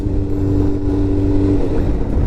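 Suzuki GSX-R 600 sport motorcycle engine while riding, a loud, steady, close drone with a humming tone that shifts slightly near the end, with no talk.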